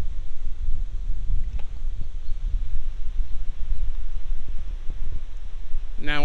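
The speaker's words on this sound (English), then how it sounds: "I'm pointing the external mic into the wind." Wind blowing into an external microphone on an iPhone outdoors on a breezy day, with a steady low rumbling buffet and gusty fluctuations throughout.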